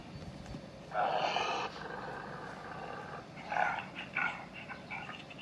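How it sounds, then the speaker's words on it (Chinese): A frightened dog sound effect from a talking picture book of We're Going on a Bear Hunt: a couple of tense whimpering, growling bursts with no barking, moderately loud over a low background rumble. "这狗狗就是没有汪汪叫， 但听起来就是很害怕的声音"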